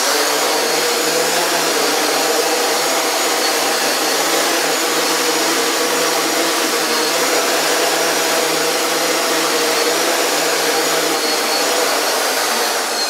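A CarbonCore Y6 multirotor drone hovers in a garage, giving a loud, steady whine and roar of spinning propellers that stays constant from start to finish without a break.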